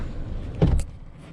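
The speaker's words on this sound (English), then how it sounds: "you have to pull that lever right there" A seat release lever clicks and a seat shifts inside a 2020 Ford Ranger Lariat FX4 cab, one short close mechanical clunk and rustle in a quiet interior.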